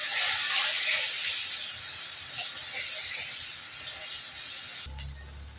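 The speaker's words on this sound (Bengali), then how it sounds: "এখন আমি চিংড়ি মাছগুলো দিয়ে দিলাম।" Prawns sizzle in a hot pan with turmeric, coriander powder and ground cumin, a loud, continuous crackling hiss that eases slightly over several seconds before a sudden change near the end.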